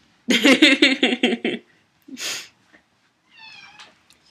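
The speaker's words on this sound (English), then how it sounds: "Oh, it looks like I have one of my kitties coming to visit." A pet cat meows close by in a quick run of short, loud calls, then gives a softer, rising trill-like call after a pause. No one talks.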